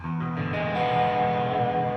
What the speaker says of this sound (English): I'm running through my Marshall right now, so I've got all this distortion